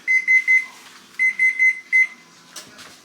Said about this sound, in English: Okay, our timer's going off.